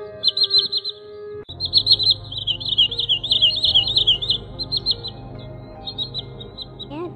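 Green sandpiper calls repeat in quick, bright whistled bursts over a steady electronic hum and background tone, loud and close, pausing briefly before resuming in a continuous run.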